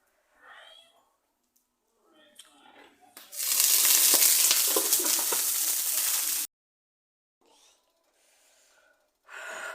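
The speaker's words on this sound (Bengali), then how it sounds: "এই যে আজকে এখন আমি ইয়েগুলো ইলিশ মাছগুলি ভেজে নিব।" Hilsa fish pieces hit hot oil in a pan with a sudden loud, close sizzle that lasts about three seconds, then cuts off; soft speech and breaths come before and after it.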